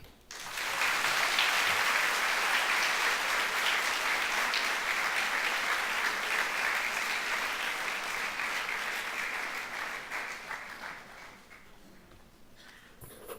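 Audience at the 2017 Couva East merit awards ceremony applauds after a featured speech: a sustained, even wash of many hands clapping that swells quickly, holds for about ten seconds, then gradually thins and fades out.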